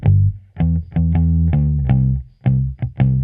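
Guitar played through an amp layered onto the direct signal during a mix demonstration, a run of strummed chords in uneven bursts with short gaps, loud and close, distorted tone with no one talking.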